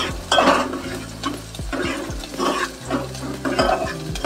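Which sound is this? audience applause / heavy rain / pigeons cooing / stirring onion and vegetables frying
stirring onion and vegetables frying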